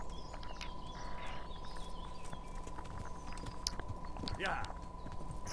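A horse's hooves clop in a steady, quiet rhythm in the Kingdom Come Deliverance video game, soft against a low background with faint game sounds.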